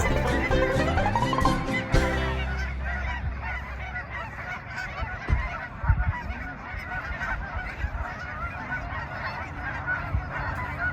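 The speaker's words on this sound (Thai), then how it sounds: "เรามาดูในด้านความสวยงามของ ฝูงห่านแคนาดากันดีกว่า" A migrating flock of Canada geese honking in Texas, many overlapping calls in quick succession, fairly close, with a low rumble in the background.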